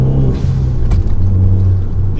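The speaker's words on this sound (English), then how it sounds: "You hear the turbos, like in the induction, you hear the turbo whistle, the blow valve" Tuned Fiat 500 Abarth with a turbo upgrade running steadily, a low engine drone with a brief whoosh of blow-off valve release partway through, loud and close, no talking.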